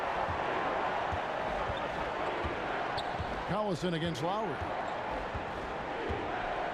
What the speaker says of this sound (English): this atmosphere is bananas. Electric in here.